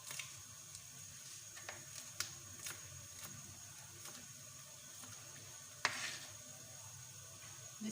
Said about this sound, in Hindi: जब तक ये प्याज फ्राई होता है